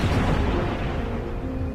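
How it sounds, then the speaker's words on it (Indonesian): Artillery cannon fire pounding German troops in a wartime battle, a dense, continuous low rumble of booms and blasts that stays loud throughout with no clear gaps. "pasukan Jerman digempur serangan meriam."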